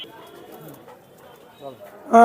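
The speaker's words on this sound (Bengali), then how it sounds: "দুইটাই টেডি কবুতর, দুইটাই নর কবুতর" Low, soft cooing from male teddy pigeons murmurs close by in a gentle rhythm at a large pigeon market in Khulna, with a short louder noise at the very end.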